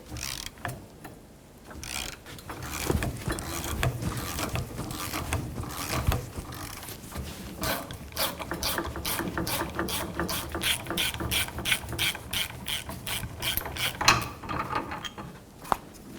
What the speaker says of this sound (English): Using a puller, we're going to pull the inside of the CV joint off of the axle.